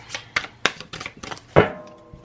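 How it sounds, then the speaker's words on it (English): Tarot cards are shuffled by hand up close, a series of crisp riffling bursts in an uneven rhythm, ending with a louder final slap of the deck. "I'm live shuffling for you guys for this reading."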